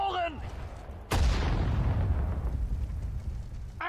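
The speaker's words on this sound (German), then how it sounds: "Feuert aus allen Rohren!" Artillery cannon fire in the WWII strategy game Sudden Strike 4, one sharp loud blast followed by a long rumbling decay, after a short spoken voice line.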